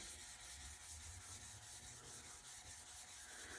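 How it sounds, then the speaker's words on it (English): Rhythmic back-and-forth rubbing of sandpaper wetted with mineral spirits over a surface, steady and close, with a soft wet scrape to each stroke. "I just put some mineral spirits on the paper and keep sanding back and forth like this"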